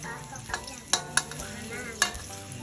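Sunflower sprouts with oyster sauce stir-fried in a pan over high heat: a soft, continuous sizzle under a few sharp scrapes and clacks of the spatula against the pan, close up with no talk.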